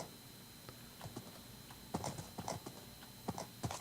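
A horse trots along in a blocky sandbox survival video game, hooves clip-clopping in a quick uneven rhythm, faint and close, over a soft background hiss with no talking.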